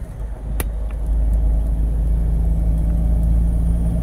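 A car cruising steadily along a road, its low engine and tyre rumble constant and close from the inside, with one sharp click near the start.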